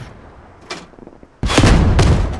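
A rocket launches in the military shooter Squad with a sudden loud whooshing blast that holds as a roaring burst for about a second, following a quieter stretch with a single faint thud.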